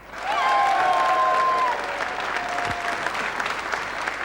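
A crowd applauds football players returning home from the 1986 World Cup, a loud sustained wave of clapping that eases slightly but continues, with a faint whistle near the start.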